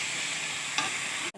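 Prawns stir-fried in a thick masala hiss steadily in a pan, with one brief spatter near the middle, then the sound cuts off abruptly just before the end.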